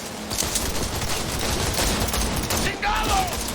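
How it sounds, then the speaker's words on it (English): Sustained drive-by gunfire in Cyberpunk 2077, a dense, unbroken rattle of automatic shots, close and loud, with a possible faint shout near the end. "this drive-by shooting that occurs in the game"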